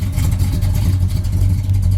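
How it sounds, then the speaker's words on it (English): Red 1968 Pontiac GTO convertible rumbling through its dual exhaust, a brief, close, loud and steady low throb with no talk. "Got a great sounding dual exhaust as well."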